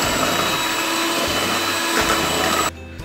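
Martabak manis pandan batter beaten with an electric hand mixer, a steady loud whirring drone with a motor hum that runs nearly the whole time, then cuts off abruptly near the end.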